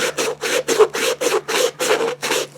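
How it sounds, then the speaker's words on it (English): Rhythmic back-and-forth sanding with a flexible sanding sponge on a prop, about nine even abrasive strokes in quick succession, close and fairly loud with no talking. "Going to spend a minute scuffing out anything I feel that needs a little sanding."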